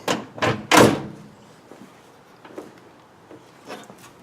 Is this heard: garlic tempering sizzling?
no